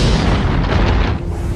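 Two planets, Earth and Venus, collide and shatter in a massive cosmic explosion, heard as a loud, dense roaring rumble that fills the whole stretch without letting up, with no voices.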